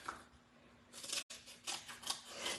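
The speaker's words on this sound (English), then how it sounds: "It's easier to cut the big pieces like this with big scissors." Big scissors cut through a foam adhesive sheet in a few crisp, quiet snips, a brief gap splitting two runs of cutting, with no voices.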